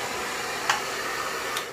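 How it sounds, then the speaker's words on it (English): An Xtava hair dryer runs with a steady, broad airy whoosh close to the microphone, continuous and even, broken only by a couple of faint clicks, with no talking. "I wasn't quite too sure what to expect with the Xtava hair dryer, but I'm going to plug it in."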